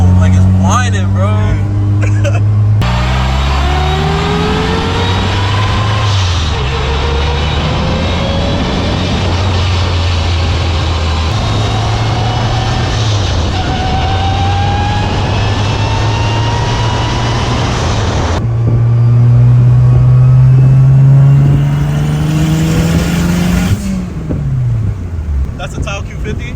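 A 500 hp Honda Civic revs on a street, its loud engine climbing in a rising whine through repeated pulls before dropping back, all continuous and close.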